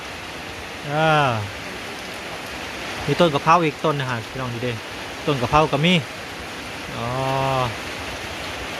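Steady rain hisses throughout as someone speaks over it, the downpour forming a constant wash of noise.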